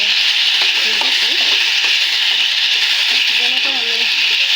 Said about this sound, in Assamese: আলুখিনি এনেদৰে ভাজি লৈছোঁ।